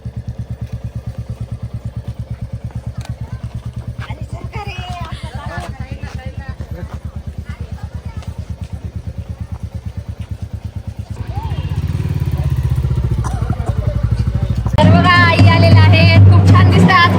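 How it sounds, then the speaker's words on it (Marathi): Bullet motorcycle arriving at an outdoor Haldi ceremony, its steady thumping engine under crowd chatter, growing louder and closer toward the end while loud festive music starts up. "बुलेटवर एंट्री होत आहे दोघांची."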